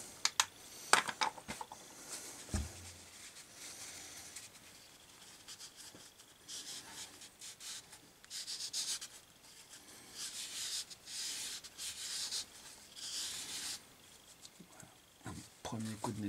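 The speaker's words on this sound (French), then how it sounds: "Premier coup de nettoyage, une première passe." Residue is wiped and scrubbed from the bevel gear housing of a BMW R/K1200-1300 motorcycle: close, uneven rubbing and scraping strokes in bursts, fairly quiet, with a few sharp knocks near the start.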